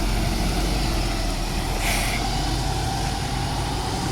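A Perth bus on the Ellenbrook line pulls away, its diesel engine a steady close rumble with a brief hiss of air brakes releasing midway.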